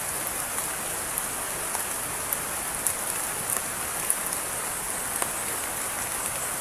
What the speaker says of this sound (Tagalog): nabutan pa tayo ng ulan